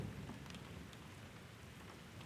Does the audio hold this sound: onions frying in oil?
no